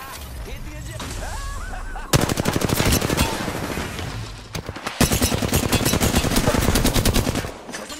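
Rapid automatic gunfire from an Apex Legends firefight, with sustained loud bursts of dense, rhythmic shots separated by brief pauses and a quieter stretch at the start where speech is faintly heard.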